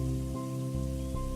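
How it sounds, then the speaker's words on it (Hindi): Heavy rain pours down in a cartoon about a storm from a low-pressure system over the Bay of Bengal, a constant hiss under a sustained musical tone, with no speech. "बंगाल की खाड़ी में कम दबाव के कारण बहुत जोर से बारिश होने लगती है।"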